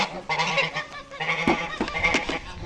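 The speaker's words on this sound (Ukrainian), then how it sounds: "Іди, іди, тебе не трогають ці два скажені гусака." Two ganders honking loudly and close in a village, several harsh overlapping calls in quick succession with no pauses.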